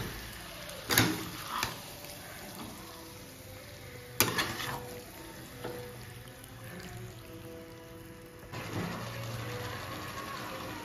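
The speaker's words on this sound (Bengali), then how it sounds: "মাটনটাকে মিক্স করে নেবো।" Mutton being stirred and mixed with spices in a pan for tehari, with a low steady sizzle broken by a few louder scraping stirs near the start and middle.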